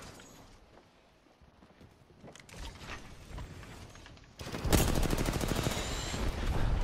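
Apex Legends gunfire, scattered distant shots and game noise at first, then a loud sustained burst of rapid automatic fire dominating the second half.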